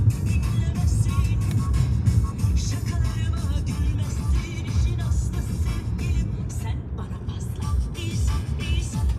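A car is driving along a road on a trip toward Antalya, with steady low engine and road rumble filling the cabin; voices talk throughout over the continuous drone.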